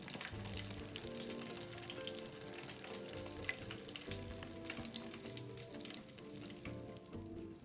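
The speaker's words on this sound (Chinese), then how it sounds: "再继续油炸至全部完成。" Spring rolls filled with yam bean deep-fry in hot oil, giving a soft, continuous bubbling sizzle with occasional light crackles and no voices.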